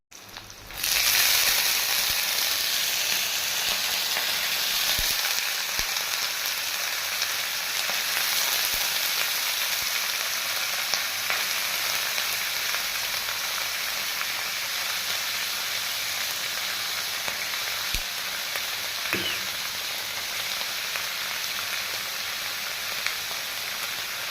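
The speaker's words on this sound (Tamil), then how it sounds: "வாழைத்தண்டு பொரியுது." Steady, loud sizzling of banana stem frying in hot oil, a dense crackling hiss that runs continuously with occasional pops and no talking.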